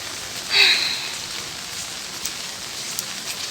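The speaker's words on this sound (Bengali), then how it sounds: "বৃষ্টি হয়েই যাচ্ছে সকাল থেকে" Steady rain falls outdoors on a rainy morning near a market, making an even hiss of patter with a brief louder swell early on and a few scattered drops.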